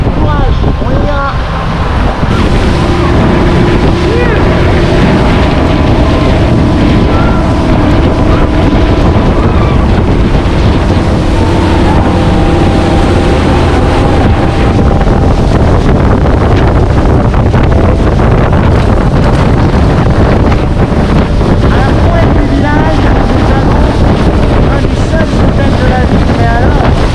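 Heavy wind buffets the microphone of a boat motoring out from Tai O village toward open sea, loud and constant, with the engine's low drone beneath and faint voices in the mix.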